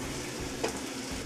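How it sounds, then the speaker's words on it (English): Chopped onion sizzles steadily in a pan for a chicken and okra gumbo, a close, continuous frying hiss with a soft scrape of stirring partway through and no voices. "Quickly stir it. Stir it for about 20 seconds"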